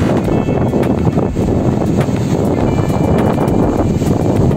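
Strong, continuous wind buffeting a microphone on a beach at Malatapay, a loud low rumble with constant gusty roar and no voices.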